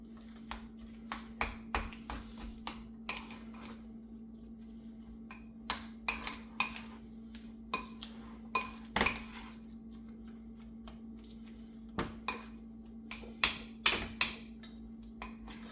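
Compound butter being stirred together with peppers in a bowl, heard as scattered sharp clinks and taps of a utensil against the bowl in irregular bursts, close and moderately loud, with no talk over a steady low hum.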